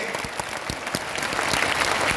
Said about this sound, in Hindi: एक बार अपने मम्मी पापा के लिए जोरदार ताली बजा दीजिए, हाथ ऊपर करके